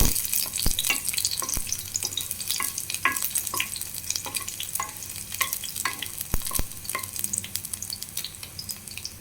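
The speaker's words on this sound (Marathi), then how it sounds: "पळयता तेल तापलें. आतां सोल काण दवरलें लसूण आतां घालता." Peeled garlic cloves fry in hot oil, a continuous crackling sizzle broken by sharp spatters and occasional utensil clicks, heard close and alone.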